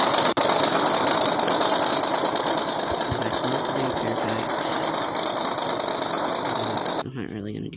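Ford Raptor engine from the Off-road Outlaws video game running on a dyno, a loud, steady buzzing mechanical drone that holds for about seven seconds and then cuts off abruptly.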